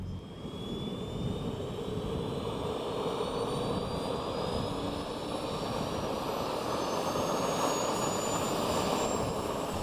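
NASA PTERA modular research aircraft with its engines running while held on maximum brakes, a loud, continuous jet-like roar with a rising whine layered over it, steady throughout.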